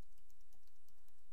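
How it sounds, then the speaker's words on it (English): Quiet, quick keyboard clicks in an irregular rhythm as someone types a website address on a computer keyboard, alone without talk. "I'm going to start by typing in the URL to my website"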